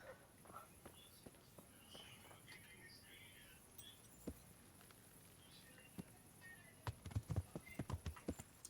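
A horse in the video game Kingdom Come Deliverance walks with quiet clip-clop hoofbeats that grow into a sharper cluster of steps near the end, over soft ambient game sound.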